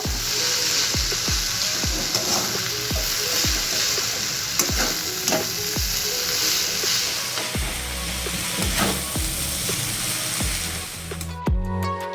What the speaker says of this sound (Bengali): আমি হাই ফ্লেমে সব কিছু দিয়ে ভাজা ভাজা করে নেব।